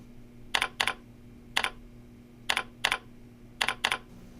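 Close keyboard typing in short bursts of two or three clicks each, repeated several times over a low steady hum.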